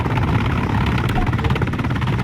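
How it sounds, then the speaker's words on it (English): Military helicopter in the video game Arma 3, a loud continuous rotor and turbine roar with steady thumping blade chop, close and filling the whole scene. "first target. Helicopters."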